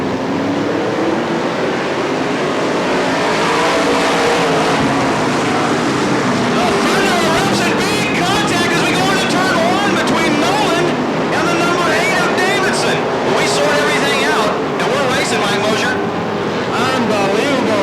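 Race cars at a Bakersfield, California track roar into a 25-lap race, a loud sustained wash of engines rising and fluttering as the field charges away, with voices talking over it.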